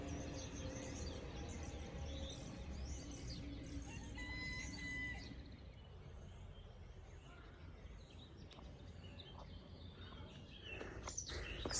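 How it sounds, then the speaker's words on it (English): Birdsong rings through a Slovenian mixed forest, a blackbird among other birds calling in scattered phrases, fairly distant and faint over a low background rumble. "so many nice birds singing in Slovenia. I mean, I think that's just a blackbird"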